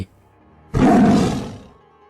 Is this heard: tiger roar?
yes